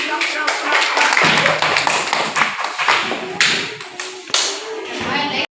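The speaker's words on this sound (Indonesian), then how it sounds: "aplaus untuk kelompok 3" A classroom of students applauds a student group after their presentation, brisk clapping that swells and fades over several seconds with voices chatting underneath.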